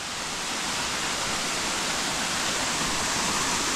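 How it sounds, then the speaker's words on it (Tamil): Todtnau waterfall in Germany's Black Forest gives a steady, full-bodied rushing roar, unbroken and close, with no voices over it. "டோட்னாவ் வாட்டர் ஃபால்."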